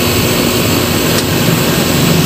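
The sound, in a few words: York air conditioner compressor unit running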